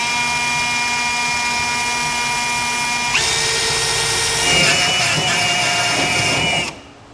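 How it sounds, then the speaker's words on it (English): A power drill with a step bit whines steadily, its pitch shifting as it widens pilot holes to 9/16 inch in a 2023 Chevrolet Silverado's metal frame, then stops abruptly near the end. "take a step bit and drill out our pilot holes to 9/16 of an inch"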